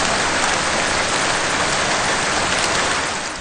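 Heavy monsoon downpour over Karachi during a thunderstorm: a loud, unbroken roar of rain hitting surfaces, dense and constant throughout, easing slightly only at the very end, with no voices.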